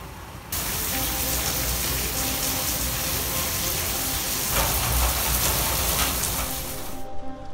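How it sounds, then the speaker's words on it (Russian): Heavy rain pours down in a dense, steady hiss, close and loud, starting abruptly and continuing without pause. "Мощный, мощный дождик."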